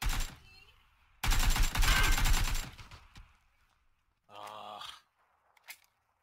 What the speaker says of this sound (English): I got shot from two sides.